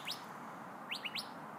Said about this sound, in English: That bird agrees with me.